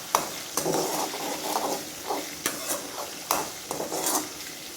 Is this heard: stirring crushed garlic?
yes